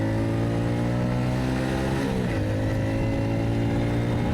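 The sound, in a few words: BOOM BD125-2 125cc motorcycle at full throttle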